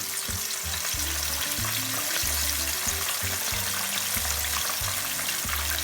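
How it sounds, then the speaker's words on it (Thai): Hat Yai style fried chicken going back into hot oil over high heat for a second deep fry, a dense, steady bubbling crackle, close and continuous, with faint low thumps beneath and no talking. "เดี๋ยวเราจะมาทอดซ้ำรอบสองเนาะไฟที่ใช้คือไฟแรง ไปเลยค่ะ จะได้ไม่อมน้ำมันเนาะ"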